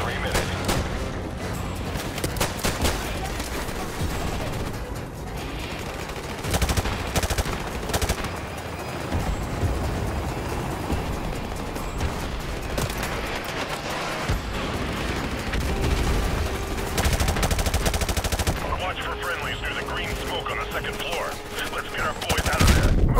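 Gunfire from an M4A1 rifle in Call of Duty Modern Warfare Remastered, dense bursts and booms running throughout under game music and voices.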